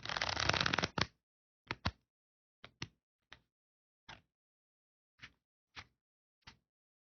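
Playing cards handled in a Zarrow shuffle that imitates a riffle: an opening brief fluttering riffle, then a sparse series of sharp, isolated card taps and pushes, quiet and close, with pauses between them.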